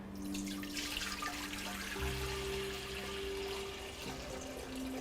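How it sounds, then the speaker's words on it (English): Water poured around a glass Klein bottle held down in a container: a steady splashing trickle with shifting tones as the level rises, fairly close and continuous, no voices. "I'm going to pour some water around it."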